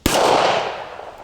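A single sharp, loud report from a Ruger SP101 3-inch .357 Magnum revolver fired single action outdoors, followed by a fading ring-out and a faint click near the end.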